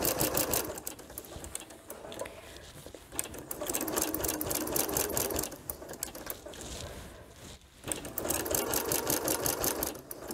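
A sewing machine stitches through the seam of a quilt-as-you-go cover, its needle chattering in fast, even bursts with brief slowdowns and one short pause near the middle, close and steady with no voices.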